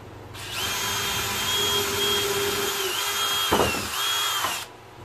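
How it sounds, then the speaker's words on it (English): A power drill whirs through a piece of soft rubber during a generator exhaust repair on a Bounder motorhome's Onan Marquis 7000, a close, steady whine lasting about four seconds with a brief clunk near the end before stopping. "I'm going to go ahead and drill a hole in the rubber"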